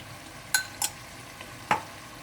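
Chicken karahi frying with green chillies, ginger and butter: a low sizzle underneath a few sharp metallic clinks and scrapes as the pan is stirred.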